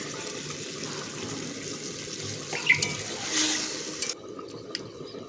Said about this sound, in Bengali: যেরকম ঝোল রাখবো সেই অনুযায়ী জল দিলাম